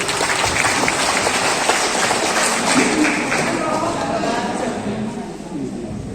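An audience at a gathering after a Mass for the elderly applauds a priest, a dense, steady patter of many hands clapping that holds for several seconds, with voices murmuring underneath.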